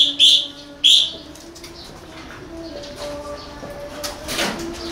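Pet birds in a wooden nest box give two short, bright calls close by in the first second, followed by faint chirps and a quieter, ongoing background hum.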